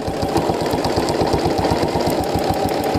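Domestic sewing machine with a stitch regulator stitching a quilt along a template, a rapid, even mechanical chatter of needle strokes running continuously up close with a steady motor hum underneath.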